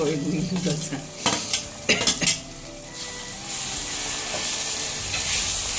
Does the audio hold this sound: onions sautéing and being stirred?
yes